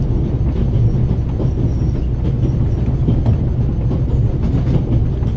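Train rolling on rails in The Raven video game, a steady dense low rumble with faint rhythmic wheel clatter, continuous and fairly loud, no voices.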